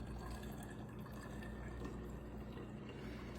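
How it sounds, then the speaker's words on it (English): Apple cider vinegar poured into a small dollar-store jug, a continuous close splashing trickle with a gurgling fill throughout. "we're pouring it in this fancy little jug here that we got at the dollar store"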